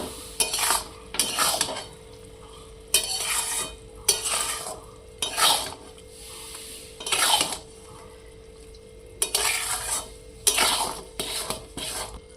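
Sour jujube pickle with jaggery cooking in a pan on low heat, with repeated bursts of spoon stirring and scraping against the pan over a soft steady simmer, no talk.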